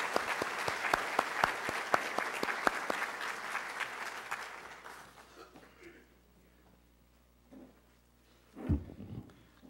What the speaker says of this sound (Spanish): al que les pido un caluroso aplauso